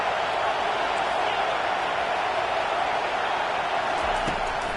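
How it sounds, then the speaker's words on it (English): A stadium crowd roars at a college football game between Nebraska and LSU on third down, a continuous loud wall of broadband crowd noise holding steady throughout, with a commentator's voice faintly beneath it. "Decibels rising as the crowd gets behind this defense on third down."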